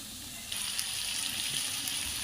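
Lentils being sautéed in oil for a dill greens bhaji, a quiet sizzle that swells after a brief soft start and holds steady, faint and close with no voices.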